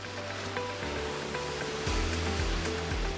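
Black Sea surf breaking on a city beach in Odesa, a steady broadband wash of waves with a few heavier surges toward the end, with no voices.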